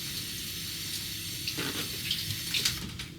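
A kitchen tap runs steadily while fish are rinsed under it, with water splashing and shifting in the sink close by, growing busier toward the end; no one speaks.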